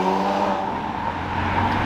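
A Ferrari launches and accelerates hard leaving a car festival in Houston, its engine a loud, continuous roar close by, rising throughout the short burst.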